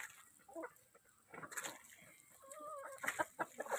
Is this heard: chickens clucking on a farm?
yes